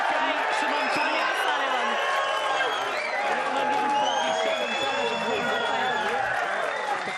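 A snooker arena crowd cheering and applauding Ronnie O'Sullivan's 147 maximum break in a match against Wakelin in Saudi Arabia, a dense, sustained roar of clapping and whoops that fills the whole stretch.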